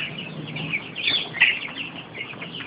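Young chickens, about two and a half weeks old, in a Kenyan chicken farm house, a dense flock of high peeping chirps with occasional wing flutters, steady and close.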